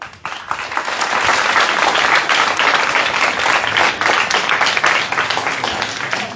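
Sustained applause from an audience celebrating children at a shelter home on Mango Day, dense steady clapping that carries on loudly throughout with no voices over it.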